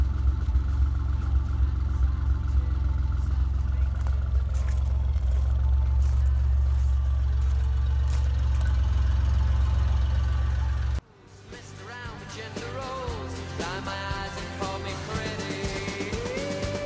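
A Reliant Scimitar drives along, its engine a steady low drone with road rumble for most of the stretch, then the sound cuts to a closer, brighter engine note rising and falling as it pulls away and revs.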